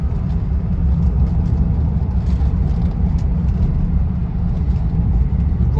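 A 1976 Rolls Royce Silver Shadow I idles with a steady, smooth low rumble, close and constant throughout with no voices.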